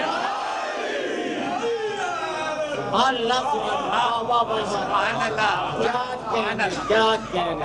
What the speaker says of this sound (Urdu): دونوں ہاتھ بلند کر کے نعرے حیدری،